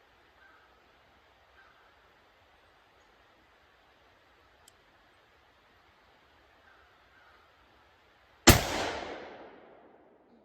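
A single rifle shot fired during basic rifle practice cracks sharply and loudly after a long quiet stretch, followed by a fading echo that rings out over several seconds.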